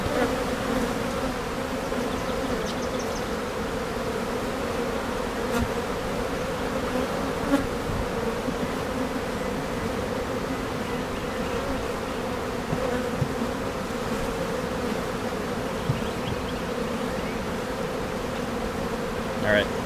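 Honey bees swarm and buzz around an open overwintered hive, a dense steady hum filling the whole stretch, with faint handling noises from a beekeeper working the frames.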